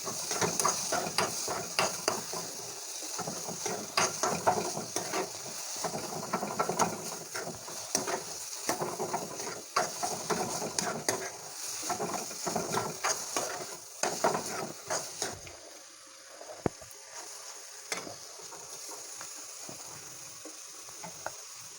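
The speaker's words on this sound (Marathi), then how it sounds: "अंड घालून घेतल्यानंतर या ठिकाणी पटापट मिक्स करून घ्यायचं आहे" Eggs for egg bhurji are stirred quickly in a hot pan, making rapid scraping and clattering strokes over a sizzle. The stirring is busy and close for most of the stretch, then thins out to a quieter sizzle with occasional taps.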